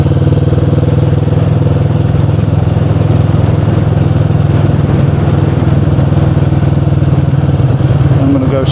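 A Kawasaki Vulcan S motorcycle riding along a gravel-strewn road, its engine a loud, steady low rumble with wind noise throughout, close to the rider.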